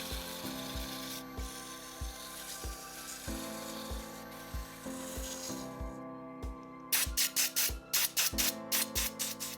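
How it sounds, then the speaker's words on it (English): A ring blank made from flea market jewelry being hand-sanded with sandpaper, a steady rubbing scrape with periodic low knocks, growing into sharper, louder rhythmic strokes near the end, close and with no talking. "I'm going to go ahead and take some sandpaper and just start sanding it up."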